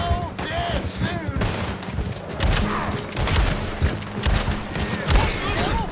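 Rapid volleys of gunfire in the Western online game Red Dead Online, shots cracking repeatedly across the whole stretch, mixed with game sounds and some voice underneath.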